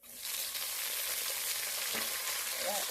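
Chopped tomatoes sizzle steadily and loudly in hot oil, a continuous crackling hiss with a few soft stirring scrapes, no voices.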